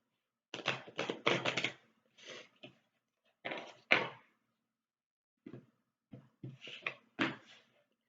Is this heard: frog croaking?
no